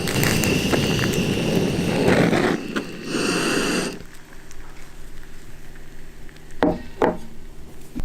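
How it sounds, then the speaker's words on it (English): A blowtorch caramelizing sugar on top of creme brulee, a close, steady roaring hiss that cuts off partway through, followed by quieter background hum and a couple of light clicks. "And blowtorch it so they form nice crust."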